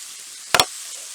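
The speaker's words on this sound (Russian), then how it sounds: "во второй руке у меня лопатка, которой я все помешиваю." A spatula stirs food in a heavy frying pan, a single quick double scrape, brief and close against quiet background.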